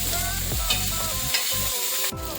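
Onion frying with roasted coconut in a pan, giving a loud, continuous close sizzle with brief stirring scrapes over a low rumble, and no voices.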